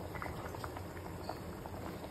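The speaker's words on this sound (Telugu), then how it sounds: "చూడండి, సాంబార్ ఇలా పొంగడానికి వచ్చేసింది కదా." A pot of sambar with homemade sambar powder bubbles and foams up on the stove, a steady soft blubbering and popping at moderate volume with no one talking.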